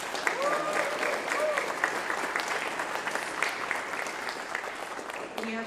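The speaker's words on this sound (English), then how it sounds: "if I can get a round of applause for her" Audience at a university concert choir performance giving steady applause throughout, dense clapping at moderate level that tapers slightly toward the end, where a voice briefly begins.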